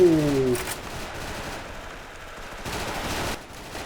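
M4A1 rifle fire in the online shooter Special Force, a loud burst at the start fading into softer, intermittent shots and room noise, with no talk.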